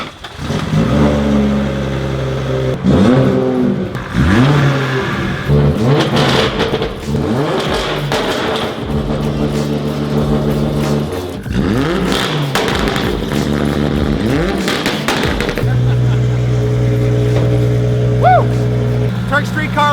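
A street car's engine fires up after a fresh ACT clutch and flywheel install, then revs loudly and repeatedly in rising and falling bursts before settling into a steady, rumbling idle close by.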